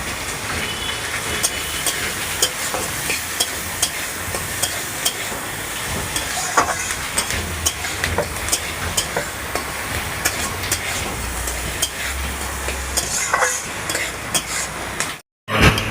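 Chopped onion frying in a pan for butter chicken, a loud close sizzle with steady crackle and scraping stirs throughout, cut by a brief silent gap near the end.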